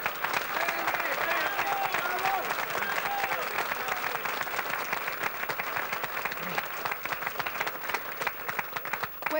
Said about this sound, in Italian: Questo è un applauso